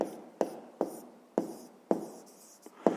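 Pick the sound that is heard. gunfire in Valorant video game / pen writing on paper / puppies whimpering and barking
pen writing on paper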